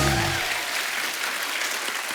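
A studio audience claps loudly for a guest on a television show, a dense and steady burst of applause, with a voice trailing off right at the start.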